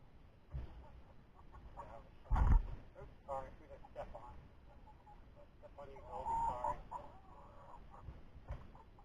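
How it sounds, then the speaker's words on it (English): Chickens being fed spinach cluck and squawk intermittently at close range, with a sudden loud thump partway through and a person talking over them. "we're going to feed some spinach to the chickens"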